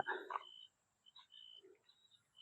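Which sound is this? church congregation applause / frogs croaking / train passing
frogs croaking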